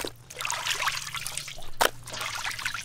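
Close, steady trickle of water draining off freshly washed fish, with a brief louder splash near the end.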